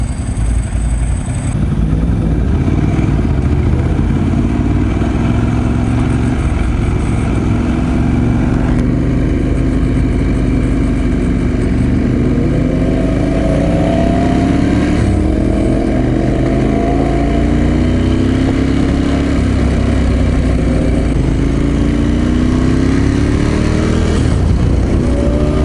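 A Yamaha R1 motorcycle engine runs loud and close for the whole span, a rough idle with rising and falling rev sweeps and no voices.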